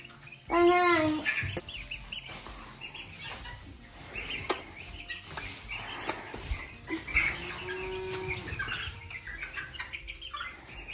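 Baby turkeys bought from a farm store peep and chirp in a brooder, with loud high cheeps near the start and more calls later, under a low hum and occasional talking.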